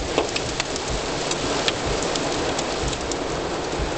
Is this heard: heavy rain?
yes